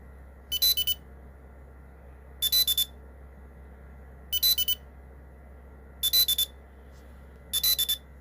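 A VOCOlinc Air Tag Card, a rechargeable wallet-sized tracker, plays its locate sound: five short bursts of high-pitched chirping beeps about two seconds apart over a steady low background hum.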